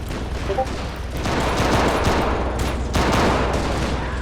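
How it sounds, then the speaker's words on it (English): Vehicle-mounted machine guns fire in Men of War: Assault Squad 2 during a 1935 Italian invasion of Ethiopia in dense shrubland, a steady rattling fusillade that swells louder in sustained bursts over a low rumble. "Firing away with the machine guns from our vehicles, but it's just not enough in this dense shrubland."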